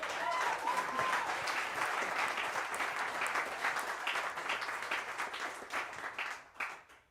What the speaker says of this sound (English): So let's all give them a round of applause for that.